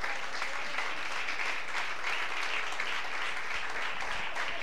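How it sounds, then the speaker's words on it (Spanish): A church congregation gives sustained applause during a Spanish-language sermon, a thick, continuous wash of many hands clapping at an even, fairly loud level with no speech over it. "denle un fuerte aplauso a Cristo."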